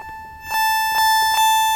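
A bright, metallic ring-modulated synth tone from a Roland SH-4d rings steadily, with clangy inharmonic pulses swelling in about three times at an even rhythm.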